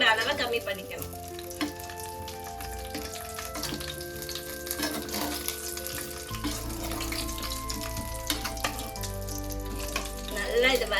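Tomatoes sauté in a pan for tomato thokku with a soft, continuous frying hiss and occasional stirring. Music plays prominently over the cooking sound.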